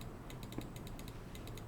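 A few light keypresses on a computer keyboard, Ctrl and Shift pressed together, faint clicks spaced over a low steady background hum, no speech.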